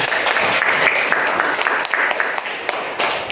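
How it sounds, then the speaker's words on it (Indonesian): Students in a classroom clap together in a steady, dense round of applause that continues throughout, fairly loud and close. "Tepuk tangan teman-teman."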